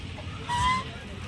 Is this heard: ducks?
yes